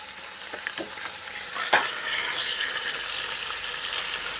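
Butter sizzles and fries steadily in a greasy pan, a dense crackling hiss that swells after a couple of scraping stirs and stays loud and close with no talk.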